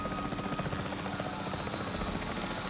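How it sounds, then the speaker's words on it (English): Helicopter in the video game Jurassic World Evolution 3, a steady rotor thrum and engine drone held at even loudness throughout, with no speech. "First thing I do when a sandstorm comes, get in the helicopter."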